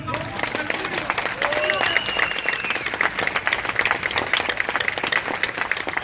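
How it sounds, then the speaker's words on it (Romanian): Audience at a historical World War I reenactment event applauds with a dense, steady patter of many clapping hands that runs throughout, mixed with some crowd murmur. "Puteți să-i aplaudăm?"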